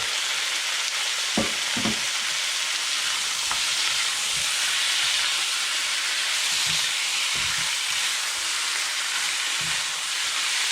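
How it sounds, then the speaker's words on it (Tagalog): Pork ribs for caldereta frying in a pan, a loud, steady hiss of sizzling fat throughout, with a few low thumps and knocks from the pieces and utensil, close up and with no talking. "So ngayon, ilagay na natin yung ating pork ribs."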